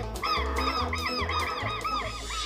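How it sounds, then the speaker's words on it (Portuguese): Southern lapwings (quero-quero) sound alarm calls in the Pantanal wetland: a rapid run of sharp, repeated harsh cries, close and loud, over a low rumbling background. "Os quero-queros dão o alerta quando alguém se aproxima."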